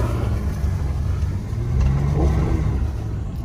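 A Chevrolet ZR2 Bison truck on GM Performance Jounce shocks, in two-wheel drive, climbs a hill off-road, its engine a steady low rumble that swells midway and then eases, with no voices.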